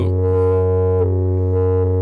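A single sustained note held on an UNO Synth Pro synthesizer, its resonant filter bringing out bright overtones over a steady, buzzy low tone, heard alone and close.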